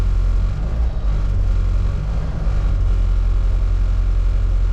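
A 1975 Ford Pinto idling with a rattle, a loud steady low engine rumble close by with a faint rattling texture and no talk.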